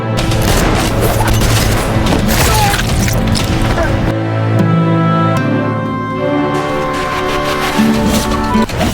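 Gunfire in a film shootout: dense bursts of shots and heavy booms, loud and continuous, mixed with a dramatic musical score throughout.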